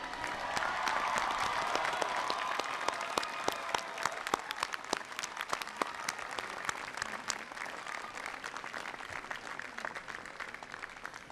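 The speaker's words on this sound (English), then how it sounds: "will the faculty associates, alumni, parents, and friends of the degree recipients of Brown College please rise and applaud the recipients" A large audience of faculty, alumni, parents and friends stands and applauds Brown College degree recipients at the 2001 Rice University commencement. Dense, continuous clapping fills the hall, heavy at first and then thinning to scattered, sharper claps toward the end.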